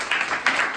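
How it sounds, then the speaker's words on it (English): Audience applause at a live stand-up comedy show: a short, dense burst of clapping from a crowd, steady and fairly loud, with two small swells, no voices over it. "You're only clapping for tolerance"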